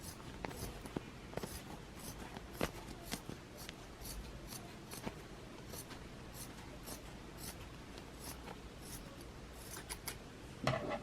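Scissors trim punch needle fabric for car coasters, a steady series of close, crisp snips that repeat at a brisk, uneven pace, with no talk over them.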